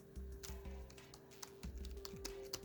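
Typing on a Logitech K830 illuminated wireless keyboard produces a quick, irregular patter of soft key clicks, close up and quiet, with no one speaking.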